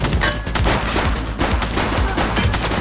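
A suspect in a red jacket opens fire on police in the video game The Precinct, with loud repeated bursts of gunfire landing roughly every half second, close and punchy over a constant rumble, and no talking.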